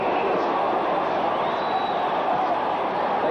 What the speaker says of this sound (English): Green goes in again with this overwhelming support from the crowd in the Empire Pool.